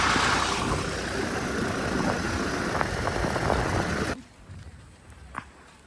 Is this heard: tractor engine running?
yes